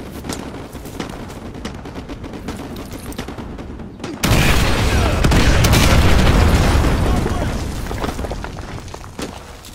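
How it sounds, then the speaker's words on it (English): Artillery explosions in Call of Duty Modern Warfare 2 Remastered: quieter gunfire crackle, then at about four seconds a heavy barrage bursts in, with loud, sustained booming and rumbling rolling on before slowly fading. "Artillery inbound."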